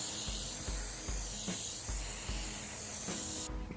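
Aerosol adhesive sprayed onto a sagging car roof lining, a steady close hiss that runs almost continuously, with a few faint knocks underneath and an abrupt cutoff near the end.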